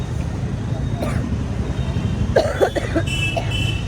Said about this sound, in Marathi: माझा खोकला काही कमी होत नाही आहे